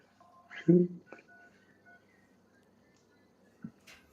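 Telephone dialing tones from a phone calling a studio, with a few short beeps and tones sounding close and moderately loud over a faint background hum.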